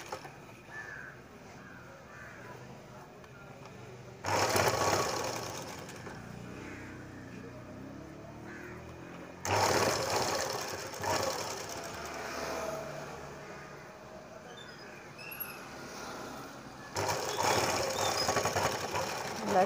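A sewing machine stitches a full collar neck on a Punjabi dress, running in three loud, steady bursts of rapid mechanical whirring separated by quieter pauses, with quiet room sound and talk between.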